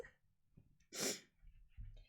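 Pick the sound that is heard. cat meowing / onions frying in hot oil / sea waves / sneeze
sneeze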